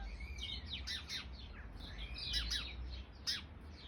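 Small birds, including a sparrow, chirp and tweet in a small woodland garden, with quick bright calls in short bursts over a low, quiet background rumble.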